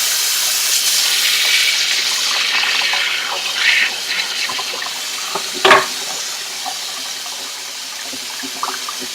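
Hot tap water runs steadily into a sink while a lacrosse head is washed with dish soap, a continuous hissing splash with a brief louder splatter partway through.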